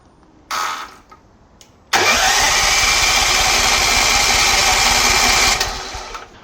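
A Hyundai four-stroke engine cranked without catching: a short burst of turning over, a pause, then a loud, steady churning of the starter for several seconds that fades out with no firing.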